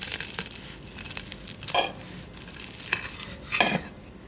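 Crunchy crackling and scraping as a crispy fried keema samosa roll is cut, uneven bursts of crisp snaps with knife-on-plate clatter, close up.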